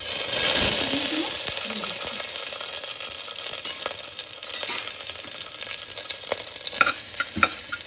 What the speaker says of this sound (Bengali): আদাটা লঙ্কাটা ভাজা ভাজা হয়ে গেছে।